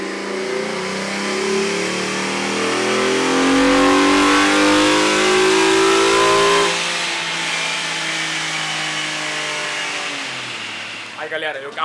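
Tuned car on a chassis dyno during a horsepower pull, the engine revving hard and climbing steadily in pitch for several seconds before cutting off, then a brief clatter and voices at the end.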